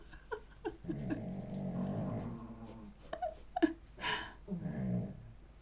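Dogs snoring and snorting close by indoors, with long raspy snore-like breaths and a few short, sharp snorts and whimpery sniffs between them.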